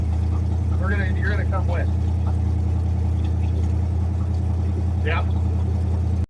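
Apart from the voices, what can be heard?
car engine running, warming up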